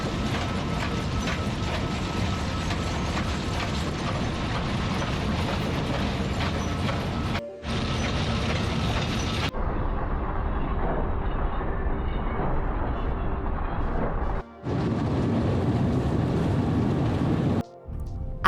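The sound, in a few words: sugar beet piler machine running at harvest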